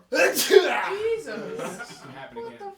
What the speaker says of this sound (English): You just sneezed in both my ears.